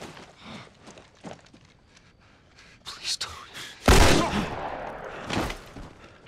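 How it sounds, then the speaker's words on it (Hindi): Gunshots in the video game The Last of Us: a few sharp shots ring out amid quiet talk, then a loud blast and burst of gunfire dominate before fading. "गोली चलती है।"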